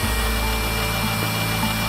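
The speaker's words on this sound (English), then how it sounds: "if we turn the drill on, we start to get water transferring up the pipe and then overspilling at the end of the pipe" Electric drill spinning a screw pump that lifts water up a pipe until it spills from the end, a steady close whirring motor hum with a low rumble and no talk.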